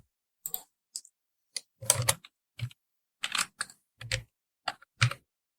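Typing on a computer keyboard while entering text for a thumbnail design, with irregular bursts of close, crisp key clicks separated by short pauses.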